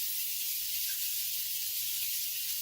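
Fries frying in hot oil in a home kitchen, a steady broadband sizzle and hiss, even and continuous, close and moderately loud with no voices.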